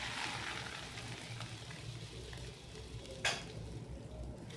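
Bread slices fry in hot desi ghee in a pan, a steady soft sizzle with faint stirring scrapes and one sharp clink near the end.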